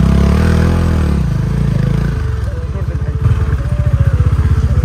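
A Kawasaki superbike with low ground clearance rides over a rough, broken road, its engine note loud and close, falling then pulsing rhythmically as it labors along, with people talking over it.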